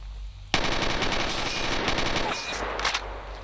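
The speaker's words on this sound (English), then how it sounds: "That was like the worst gunfire I've ever..." Automatic rifle fire in S.T.A.L.K.E.R. Shadow of Chernobyl, a fight against bandits: a dense, sustained burst of rapid gunshots starts abruptly and continues loud and close for about three seconds.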